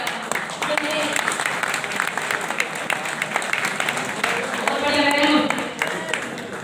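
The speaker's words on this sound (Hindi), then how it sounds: "खड़े हो जाओ जरा, आपके लिए जोरदार ताली होनी चाहिए" Seminar audience applauding newcomers who stand up, a dense continuous clapping that swells toward the end, with voices and cheers mixed in throughout.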